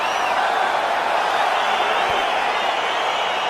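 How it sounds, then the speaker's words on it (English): An arena crowd in the UFC 4 video game keeps up a dense, steady roar of cheering and excited noise as a fight gets underway, loud and continuous throughout. "crowd getting excited as this fight gets underway"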